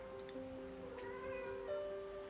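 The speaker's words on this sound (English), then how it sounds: "My cat is complaining, even though she ate very well this morning." A house cat meows repeatedly in drawn-out, tonal cries that rise and fall, close by and fairly steady, with no talking over it.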